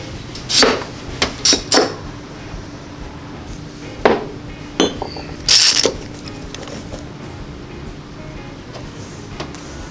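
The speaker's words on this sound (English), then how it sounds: "all the way around the outside I'm going to clamp it in" Clamps go on around a Formica surface repair jig with a series of clattery metallic clicks and knocks in irregular bursts, close by, with a quiet gap at the end.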